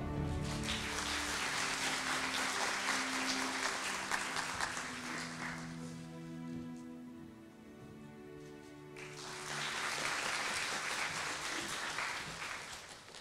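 A full room of conference attendees applauds at an IEEE Consumer Electronics Society opening ceremony, dense sustained clapping that dips briefly in the middle before swelling again, steady and fairly loud throughout.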